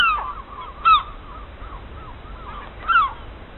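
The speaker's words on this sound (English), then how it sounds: "there's seagulls in the room" Two loud, harsh bird calls about two seconds apart, squawking cries over a quiet background with fainter calls in between.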